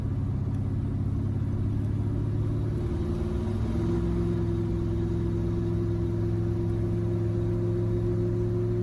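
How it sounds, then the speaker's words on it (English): A 1969 Chevelle driving down the road, its engine a steady low rumble that holds level throughout, with slight shifts in tone as it cruises. "let's go ahead and take it down the road real fast and see how accurate our speedometer is now"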